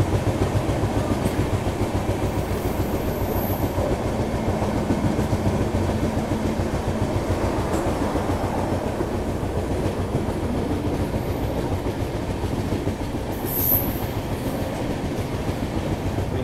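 Indian Railways Duronto express on the Mumbai–Howrah route running through Kharagpur Junction without stopping, heard from inside a first AC coach: a steady, loud rumble of wheels with rhythmic clickety-clack throughout, no talk.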